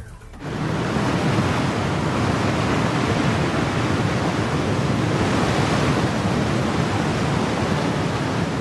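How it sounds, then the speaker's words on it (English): Seawater rushing into a dry dock at Geoje Bay, flooding around watertight undersea highway segments, a sudden onset into a loud, continuous roaring wash of water that holds steady without any voices. "Flooding the dry dock will allow them to float the segments out to sea."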